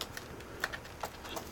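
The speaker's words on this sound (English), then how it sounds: "Let me just put this keyboard in." A Sony Vaio laptop keyboard pressed and snapped into its place, a few faint clicks and taps spread irregularly over a quiet background.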